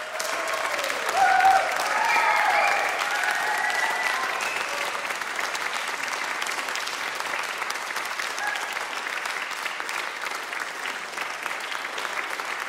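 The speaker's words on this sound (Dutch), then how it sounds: "Dan geven we deze mensen nog 1 keer een geweldig applaus" Sustained applause from a concert hall audience at a classical music prize event, a dense steady clapping that stays even throughout with no voices on top.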